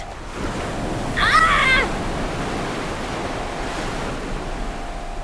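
Rough sea waves crash and surge where the Atlantic meets the North Sea in a video game, a steady broadband wash with a brief louder swell near the start and a short shout over it.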